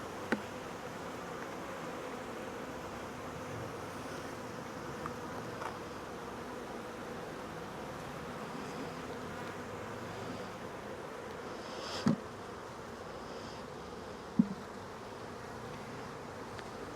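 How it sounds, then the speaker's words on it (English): A crowded nuc hive of calm honeybees gives a steady, dense buzzing drone throughout, close and even, with a couple of faint knocks near the end. "This is an absolute absurd amount of bees."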